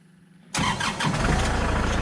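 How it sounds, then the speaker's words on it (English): A tractor engine cranks and catches abruptly after a quiet moment, then settles into a loud, steady close-up idle. "I'll go ahead, turn on the tractor real quick"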